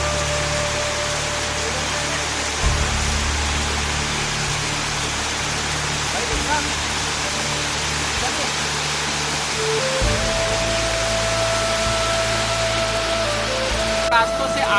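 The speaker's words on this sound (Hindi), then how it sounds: "देखिए झरने का जो पूरा साउंड है, जो नेचुरल है, वो पूरा आ रहा होगा" A waterfall rushes in a forest in Madhya Pradesh, giving a steady, loud, even roar that fills the whole stretch, with a voice faintly present at times.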